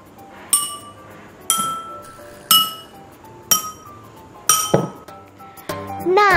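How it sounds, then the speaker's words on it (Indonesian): Drinking glasses in a classroom singing-glass experiment are struck one after another: five bright, close clinks about a second apart, each ringing briefly and fading before the next, with no talking. "Sekarang kita akan coba cek suara yang dihasilkan dari masing-masing gelas ini ya"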